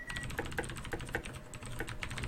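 Rapid typing on a computer keyboard during a League of Legends match, a steady patter of close key clicks with no talking.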